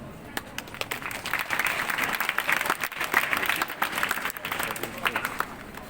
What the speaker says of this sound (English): a big round of applause for my lovely students.